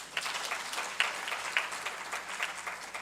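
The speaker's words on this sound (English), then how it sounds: "She needs a big clap, please." An audience at a national health promotion and disease prevention conference claps steadily, a dense patter of many hands with a few sharper individual claps, from start to finish.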